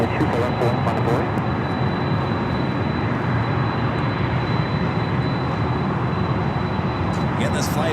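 A 27-year-old Boeing 767-300ER airliner at Los Angeles airport, a broad, steady roar of jet engines held throughout at close range, with a faint high whine running through it.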